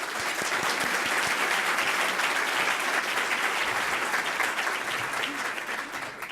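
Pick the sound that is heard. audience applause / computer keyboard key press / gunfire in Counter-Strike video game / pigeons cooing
audience applause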